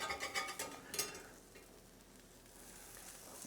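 A spatula scraping and flipping strips of tempeh bacon in a frying pan: a few quick metallic scrapes and clatters up close, then a soft, steady sizzle that fades and lingers quietly.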